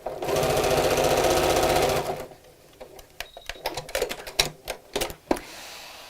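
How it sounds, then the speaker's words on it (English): A sewing machine runs steadily for about two seconds as it stitches shut the opening of a small stuffed fabric heart, then stops, followed by scattered clicks and handling noises. "we're going to put these back underneath the sewing machine and just sew that opening closed"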